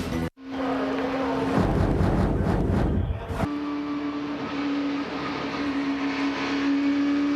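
An IROC race car engine roars from onboard with Mark Martin at Daytona, a loud sustained drone that drops into a burst of rumbling gear change and then settles back into a high, steady whine.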